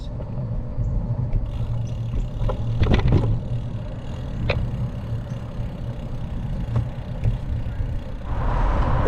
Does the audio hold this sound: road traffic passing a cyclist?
yes